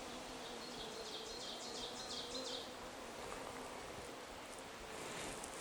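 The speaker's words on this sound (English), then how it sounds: "kind of got a ticked off bee here." A steady, faint buzz of honeybees at a beehive nuc, one agitated bee droning closer in high whining passes over a soft outdoor hum.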